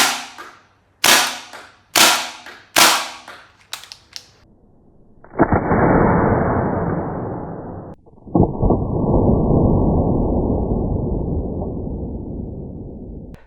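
A Tokyo Marui MP7 gas blowback airsoft gun fires five sharp, loud metallic clanks in a quick irregular burst. Two long, sustained hissing blasts of gas follow, close and loud, with no talk.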